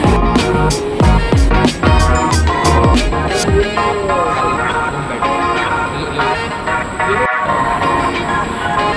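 Rhythmic clattering and screeching of a metro train at a station in Singapore, with rapid metallic clicks early on, then a steadier rumble and hum.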